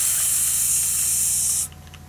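A crop sprayer spraying in the Pure Farming 2018 video game, a steady loud hiss of spray lasting about a second and a half before cutting off abruptly over a low engine hum.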